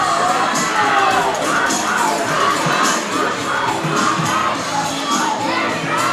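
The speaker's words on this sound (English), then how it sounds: "the crowd of Harleton is getting into it as well" A high school baseball playoff crowd, with a student section in the stands, cheers loudly and continuously, shouting and whooping in a sustained roar that swells and dips slightly.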